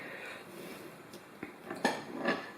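A brush taps and dabs at a palette while mixing watercolour paints, a few faint clicks and scrapes that grow slightly louder toward the end, with no voice.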